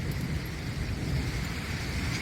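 Steady rain rolls in with a severe thunderstorm in Breedsville, Michigan, a dense continuous wash of close, loud rainfall with low rumbling underneath, and no voices.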